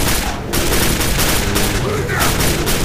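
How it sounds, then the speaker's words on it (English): Machine gun fire in the shooter game Quake IV rattles on continuously and loudly, dense overlapping bursts with booms and battle noise filling every moment. "I'm glad this machine gun has a fucking scope"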